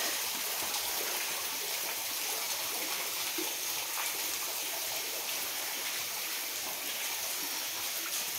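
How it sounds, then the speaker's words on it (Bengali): Water from a waterfall trickles and drips down a curtain of hanging tree roots inside a cave near Cherrapunji, Meghalaya, a steady, close hiss of running water that continues unbroken throughout. "সেই ঝুড়ির মতন ওই শিকড় বেয়ে পুরো ঝর্ণার জলগুলো ওইভাবে পড়ছে"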